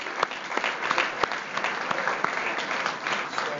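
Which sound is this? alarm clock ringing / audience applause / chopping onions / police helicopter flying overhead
audience applause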